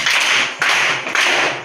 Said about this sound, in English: Clap the hand for Maxi.